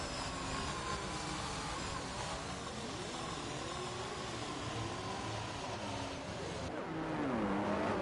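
Race cars of the ERL series lining up on the grid in Austria, engines droning and whining at varying pitch, with a rising rev toward the end.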